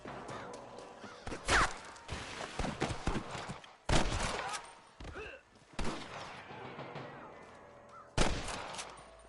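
Gunfire in the Western video game Red Dead Redemption: loud, sharp shots ring out one at a time at irregular intervals, some close and echoing, with quieter rustling and game sounds between them.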